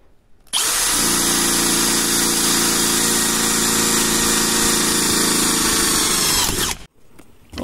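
A Bosch GSB 185-LI cordless drill bores a 6 mm hole without a pilot hole, running as one loud, sustained high-speed whine for about six seconds before stopping abruptly.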